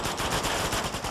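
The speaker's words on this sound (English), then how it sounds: "I'm being shot at." Rapid automatic gunfire from enemies aimed at the player in the Uncharted 2 demo video game, a dense, continuous burst of loud shots filling the whole moment with no talking.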